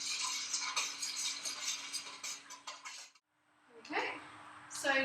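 Stirring yellow feather dye in a saucepan gives light metallic scraping and clinking from about 0 to 3 seconds, then a short pause and a few more scrapes and taps, close by.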